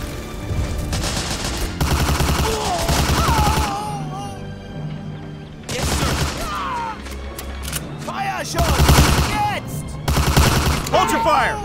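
Gunfire bursts in the WWII shooter Medal of Honor: Allied Assault, set in Normandy bocage, with repeated loud volleys under shouted voices and battle chatter throughout.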